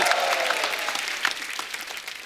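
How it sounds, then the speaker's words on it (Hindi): Steady applause from a crowd, dense clapping filling the whole stretch without a break. "जोरदार तालियां।"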